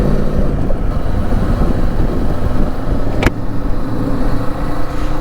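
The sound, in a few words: Kawasaki Eliminator 450 motorcycle riding in third gear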